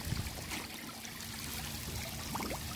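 Water swirling and trickling as a Pentair GreatWhite automatic pool cleaner is lowered into an outdoor pool, a soft continuous splashing and gurgling close by with a few small splashes, no talk.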